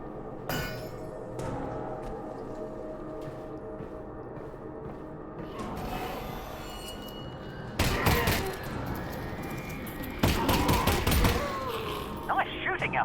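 Rapid gunfire in the VR game Half-Life: Alyx comes in two sharp clusters of close, loud shots with metallic clinks, set against a quieter, low ambient background.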